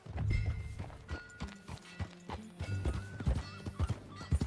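Horse hooves clip-clop in a steady rhythm while riding in Red Dead Redemption 2, close and moderately loud, with a brief whinny and occasional thuds mixed in.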